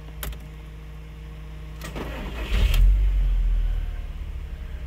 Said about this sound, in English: Car running perfectly fine.